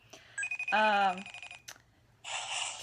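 A telephone rings with a steady electronic tone, followed by a strong harmonic burst and then a broadband hiss; all of it is loud and close, with no talk over it.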